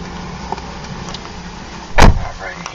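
Someone climbs into a 2010 Ford Fusion Hybrid: a low, steady cabin hush carries a few small clicks, then one loud, solid door thud near the end that quickly dies away.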